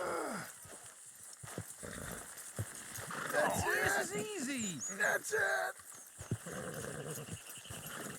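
Horses whinny and hooves clatter in the video game Red Dead Redemption 2 while people shout encouragement over them, the animal calls rising in the middle of the stretch.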